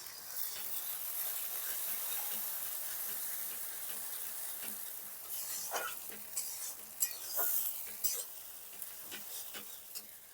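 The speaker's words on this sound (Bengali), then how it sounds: "দিয়ে দিলাম মশলাটা কষানোর জন্য সামান্য জল দিয়ে দিচ্ছি" Dried red chili paste and ginger-garlic paste frying in a pan with a splash of water, giving a steady hiss and sizzle with occasional spoon stirs and clinks, close and moderate.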